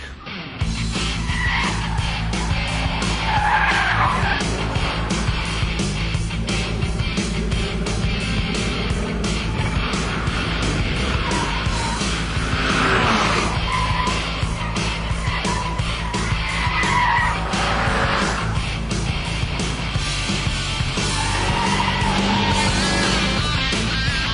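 A 1990s Lotus Elise sports car is driven hard around a race track, its engine droning steadily and loudly with tyre noise for the whole stretch.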